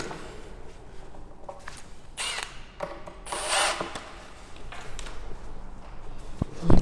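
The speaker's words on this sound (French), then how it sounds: "Donc c'est des vis de 9 cm d'épais qu'on va venir visser." Power screwdriver driving 9 cm screws into pre-drilled wood while a chalet is assembled, several short whirring bursts with one longer, louder run in the middle amid clunks and handling noise, close by.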